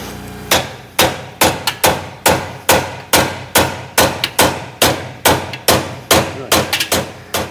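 A hammer taps repeatedly on a nut on the front end of a Morris 1100S, giving about twenty sharp, loud, closely spaced metallic blows in a steady rhythm.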